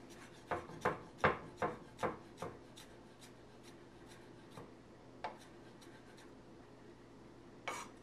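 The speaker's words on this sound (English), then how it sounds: "Just gonna mince it up like so. Get it nice and fine." A knife chops garlic finely on a board: a quick run of about six sharp taps, then a few sparse single knocks, close and clear against a quiet kitchen.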